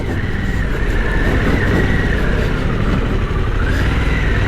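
Harley-Davidson Pan America motorcycle with stock exhaust, engine running loud and steady at close range with a continuous low rumble and slight pitch shifts as it revs; no talk.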